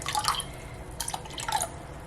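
Cold water poured into a large mixing bowl, splashing and trickling in short bursts over a faint steady hiss, close and without talk.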